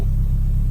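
A turbocharged Honda Civic EP3 engine idling after running for a long while, heard as a loud, steady low rumble, close and continuous, with no voices.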